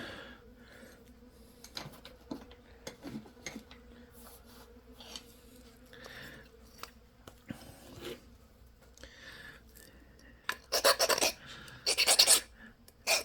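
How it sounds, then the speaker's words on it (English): Honeybees buzzing outdoors, an intermittent drone with passing swells as bees fly close, over light scratching and handling noise, with louder bursts near the end. "even if they do sting you, it's a honeybee"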